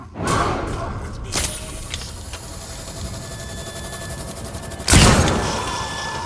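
Bolt gun fired in Alien: Isolation: two sharp broadband bursts, a short crack near the start and a louder, longer blast toward the end, over a dim rumbling ambience.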